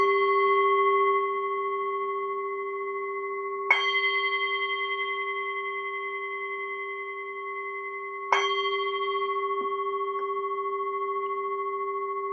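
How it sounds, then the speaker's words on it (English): A meditation bell is struck three times, each strike giving a clear bright ring that hangs and slowly fades into a long, steady sustained tone between strikes, with no talking. "I'll just sound a bell"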